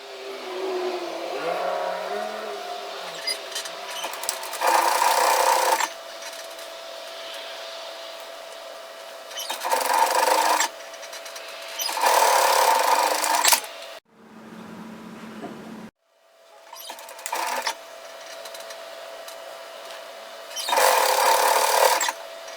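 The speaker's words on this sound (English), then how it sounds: "do your edge stitching to close the gap" A sewing machine edge-stitches a fabric mask in several loud bursts of rapid whirring, separated by quieter pauses and handling sounds.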